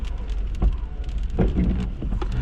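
Rain falling outdoors in Saint-Bruno on a near-freezing November day after sleet, a constant hiss of drops on surfaces with a few louder nearby splashes and low rumbling background.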